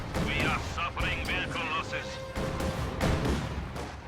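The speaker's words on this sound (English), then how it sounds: "Takes one out purely with Panzerfaust fire." Panzerfaust fire in a World War II strategy game, several sharp launches and blasts mixed with game sounds while a commentator talks over them.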